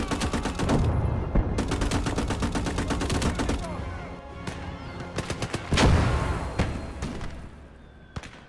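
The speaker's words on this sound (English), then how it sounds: "They are shooting mortars over here, though." Mortars and gunfire firing nearby in hedgerow country, loud booming blasts mixed with rapid bursts of shots, dense at first and then more scattered, sharp single reports near the end.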